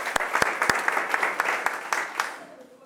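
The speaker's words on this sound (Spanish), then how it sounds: "Muy bien, muy bien. Un aplauso." Classroom applause after a prototyping lesson, with sharp, uneven claps from a small group of people close by, spaced and irregular, tapering off toward the end while some voices chatter underneath.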